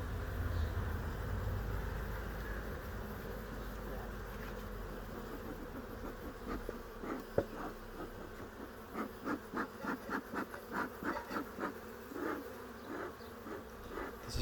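Honeybees buzz steadily close by during a beehive inspection, a continuous drone with pulsing louder passes in the second half as bees fly near.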